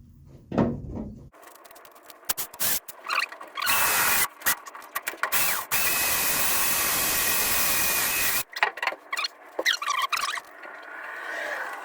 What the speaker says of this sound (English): Now we're going to switch to the bigger drill and slow the speed down.